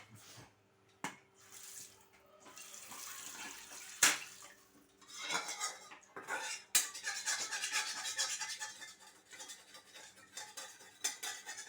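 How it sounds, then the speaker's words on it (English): Water sloshes and trickles into a container while making Goan xacuti masala, amid clinking utensils and dish sounds, fairly quiet and close, with a few sharp knocks. "Put a little water in this."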